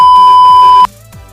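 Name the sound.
censored beep sound effect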